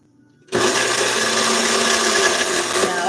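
A blender set to chop switches on abruptly and runs at a loud, steady whirring whine, its motor tone holding constant as it works on food with slight rattling changes near the end.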